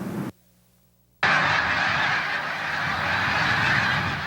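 Geese honking loudly and continuously in a dense, overlapping chorus that starts abruptly after a brief silence.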